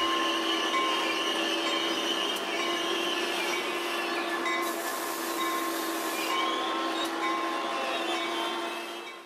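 Simulated NJ Transit train at Red Bank station in the Trainz game: a sustained tonal electric hum and rumble with steady harmonic whine, a brief brake hiss partway through, and the sound easing off at the very end.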